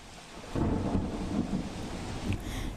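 Heavy rain with rolling thunder during a monsoon storm in Vyara, Tapi district, South Gujarat, a dense, close roar with deep low rumbles that swell after the first half-second and stay loud throughout.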